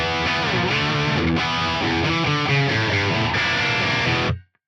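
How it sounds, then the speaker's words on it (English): Electric guitar through a Friedman BE amp model plays a loud, saturated riff of driven chords and notes with dense distortion. It is continuous and close, then cuts off sharply near the end with no talking. "Then on channel D and on scene 4, I have the straight up Friedman BE model."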